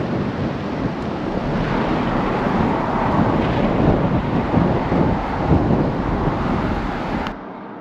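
Thunder from approaching squalls in Wales, a loud sustained rumble mixed with heavy wind buffeting that runs unbroken for several seconds before cutting off.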